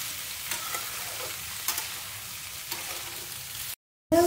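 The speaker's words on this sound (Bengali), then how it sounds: "আমি এর মধ্যে এক ফোঁটাও জল দেবো না, এমনি তেলের মধ্যে আমি ভেজে নেবো সিমগুলো" Flat beans frying in oil with no water in a pan give a steady close sizzle with a few faint stirring scrapes, then a brief cut to silence near the end, no talking.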